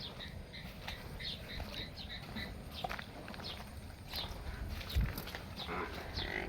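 Water buffaloes shift about in a flooded stable, with soft sloshing, splashing and hoof movement over a low steady background, and a faint thump midway; no clear voices.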